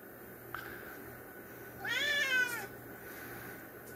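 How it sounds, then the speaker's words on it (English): A cat gives a single drawn-out meow, close and clear, with a faint click just before and quiet room tone around it. "Your old mean cat."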